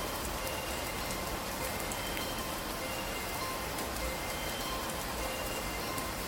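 Steady rain falls at night in a continuous, even hiss, with dense patter and no let-up, moderately loud and heard on its own without voices.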